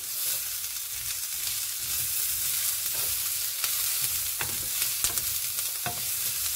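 Paprika sizzles steadily in a frying pan for a Filipino vegetarian tofu adobo, a continuous close hiss with small scattered pops and the occasional scrape, no voices.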